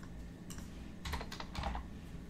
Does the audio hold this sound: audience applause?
no